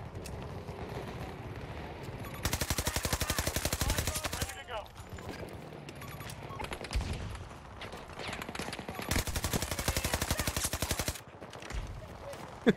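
PP-29 SMG gunfire in Battlefield 2042, two long rapid-fire bursts of sharp close shots, each lasting about two seconds, with quieter scattered game sounds between them.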